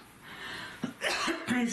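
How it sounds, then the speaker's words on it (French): A person coughs several times in quick succession, short harsh bursts close to the microphone. "je tousse tout le temps là"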